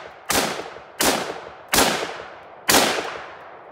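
Four loud, evenly spaced gunshots from an ATI Mil-Sport AR-15 pistol with a 60-round magazine, each a sharp crack followed by a short ringing decay, with no talking.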